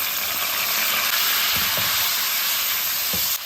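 Sliced pork belly stir-fries with soy sauce, bay leaves and star anise in a wok, giving a dense, loud, continuous sizzling hiss with a few soft knocks of the spatula toward the end.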